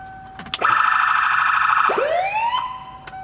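A siren box on an emergency vehicle gives a close, loud wail that holds steady, drops away, then sweeps back up, with small clicks around it.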